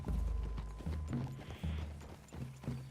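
Horses walking in the Red Dead Redemption 2 video game, steady hoof clops on the ground in an even walking rhythm, close and clear with faint creaks of tack.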